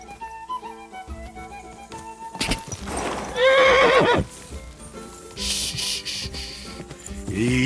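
Horse in the video game Kingdom Come: Deliverance 2, a loud whinnying neigh rising over clip-clopping hooves and rustling game sounds, with background music and no talking.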